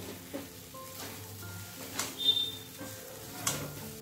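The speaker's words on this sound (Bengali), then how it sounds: "এবার আলুগুলো দিয়ে আরও 2-3 মিনিট মতো কষিয়ে নেব।" Fried potatoes are stirred into a spice masala for aloo dum in a pan, giving a soft, low sizzle with scattered scrapes and a few brief metallic clinks, all fairly quiet with no voices.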